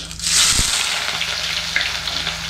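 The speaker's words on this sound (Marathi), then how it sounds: "जिरा टाकला ना की त्याच्यामध्ये कांदा टाकते" Finely chopped onion and cumin hit hot oil with a sudden loud burst of sizzling. The sizzling then settles into a steady, close frying hiss with light stirring, and there is no talking.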